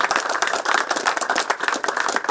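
A small crowd applauds at a political campaign meeting with residents of the Karpoš neighbourhood in Kumanovo: brisk, close clapping from a modest number of people, steady for the whole stretch.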